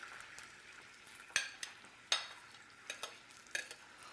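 Onions frying in a pan for Jamaican curried chicken, a soft steady sizzle broken by several sharp stirring scrapes and clicks of a utensil.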